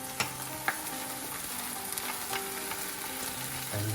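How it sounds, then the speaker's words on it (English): Curry paste and onions frying in a pan for Thai coconut curry crab, a steady close sizzle with sharp spits and clacks of stirring scattered throughout, no voices. "And get that stirred around in there."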